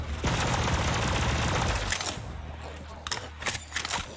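A shotgun fires in the video game Borderlands 3, a dense burst of gunfire at the start fading into scattered clicks and sharp reports, with game sounds underneath.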